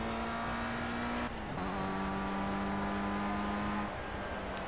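A Formula Rookie open-wheel race car in Project Cars at Oulton Park, its engine holding a steady high-pitched drone on the final lap, with one sharp gear change dropping the pitch partway through, loud and close.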